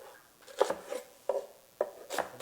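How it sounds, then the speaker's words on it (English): A knife roughly chopping an onion on a board, with sharp close taps in small irregular clusters of two or three over a quiet background and no talking. "it's an easy little rough chop of an onion"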